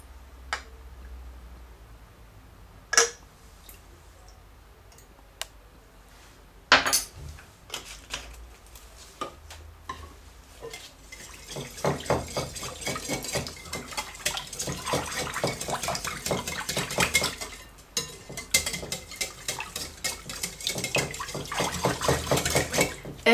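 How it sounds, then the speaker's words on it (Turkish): Close wet clicking and scraping as a thick liquid green tea scented soap mixture is stirred briskly by hand, starting with a few scattered knocks, then becoming continuous and busier, with no speech. "Elden iyice karıştırıyorum."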